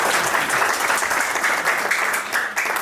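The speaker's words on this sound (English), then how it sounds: "give yourselves a big round of applause" A crowd at a magic show applauds in a loud, continuous roar of clapping that stays dense and steady throughout.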